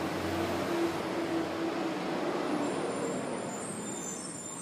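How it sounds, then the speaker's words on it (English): A trash truck and recycling trucks rumble past on a street, a steady low engine drone with faint brake hiss, heard at a moderate distance without voices. "the sound of the trash truck and the recycling trucks going"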